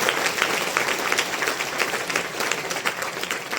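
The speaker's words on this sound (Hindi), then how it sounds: "तो जोरदार तालियां एक बार आप अपने लिए जरूर बजाइएगा।" An audience at a product launch event in a hall applauds continuously, many hands clapping in a dense patter with slight fluctuations, moderately close.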